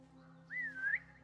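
A short rising-and-falling whistle from the player character in Assassin's Creed Mirage, used to lure enemies, sounds once over a low steady game ambience with faint background hum.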